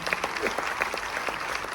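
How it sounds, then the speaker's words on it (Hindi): Audience applause welcoming a speaker onto the stage at a motivational lifestyle event, a dense steady clatter of many hands clapping that continues evenly throughout without talk. "तो उनके स्वागत में भी एक शानदार ताली बजाओ"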